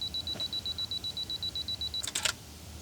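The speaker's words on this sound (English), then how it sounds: "I just leave the LCD touch to release shutter on, so I just barely tap the LCD" A camera fires its shutter after a tap on the LCD touchscreen, outdoors in Zion National Park: a steady run of rapid soft beeps, then a brief cluster of sharp mechanical shutter clicks near the end, with no talk.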